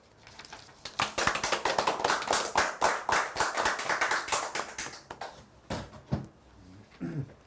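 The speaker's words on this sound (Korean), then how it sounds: "온라인을 통해서 시청하고 계신 여러분들도 큰 박수 보내주시기 바랍니다." A crowd claps at the launch ceremony of a basic-income citizens' movement headquarters for small and venture businesses, a burst of sharp, fairly close hand claps that swells and then thins into scattered claps near the end.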